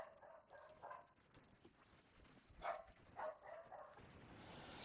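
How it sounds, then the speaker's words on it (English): A dog barks twice in the distance, two short muffled bursts rising briefly above a steady indoor hum and hiss. "sorry about the dog barking"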